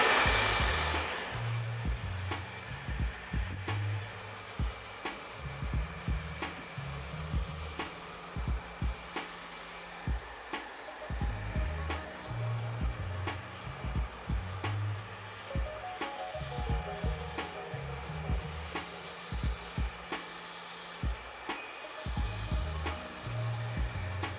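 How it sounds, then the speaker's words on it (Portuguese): A hair dryer blows steadily and close while hair is brushed, with soft bristle strokes and handling noises against the constant airflow and a brief quieter dip in the middle. "usar o secador com as duas mãos"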